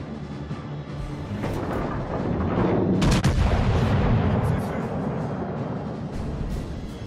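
Naval artillery in World of Warships: Legends booms heavily in a sustained rolling salvo, with a sharp loud blast in the middle and a long rumbling decay beneath other battle noise.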